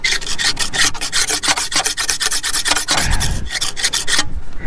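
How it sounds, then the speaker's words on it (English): A knife blade rasps steadily across rusty steel plowshares during rust scraping, with quick, evenly repeated scraping strokes that stay close and loud with no talking. "we're gonna come out here and kind of scrape off some of these plowshares"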